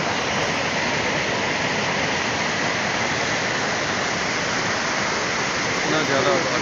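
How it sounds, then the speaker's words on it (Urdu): A mountain stream in Kalash valley rushes loudly and continuously, a dense unbroken roar of water close by that fills the whole stretch without pause. "پانی کا شور اتنا ہے۔"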